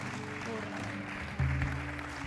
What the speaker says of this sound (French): Would you give a clap offering of praise to Jesus?